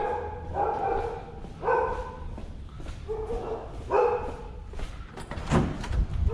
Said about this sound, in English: There's Nico barking at us again.